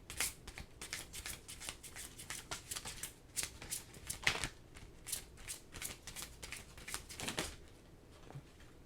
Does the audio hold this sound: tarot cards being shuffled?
yes